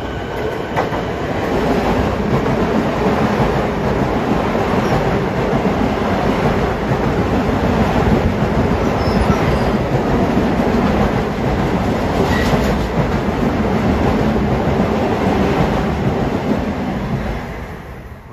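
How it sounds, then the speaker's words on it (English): A westbound Long Island Rail Road equipment train rumbles past up close at Elmont for the whole stretch, steady clickety-clack of wheels over rail joints with a dense, continuous roar. "Got a westbound equipment train here."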